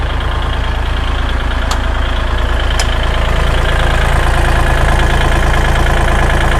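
A Kubota L3608SP tractor engine idles loudly and steadily close by, a deep, even diesel rumble with two faint ticks over it and no talking.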